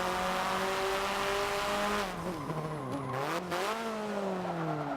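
The engine of a Hyundai Veloster N in Forza Motorsport 7 drones steadily, then rises and falls through quick gear changes with some tire squeal. The sound is continuous and fairly loud, with no talk over it.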